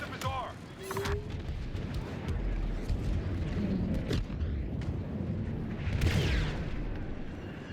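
Grenade and weapon blasts in a Star Wars video game, a series of booming detonations and sharp bursts over dense rumbling combat noise, with shouted game voices mixed in.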